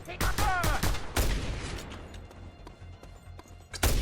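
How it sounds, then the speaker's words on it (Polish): Rapid bursts of gunfire aimed at the player in the Just Cause 2 video game, loud close volleys early on, then scattered distant shots and a final sharp burst. "Co tu strzela do mnie?"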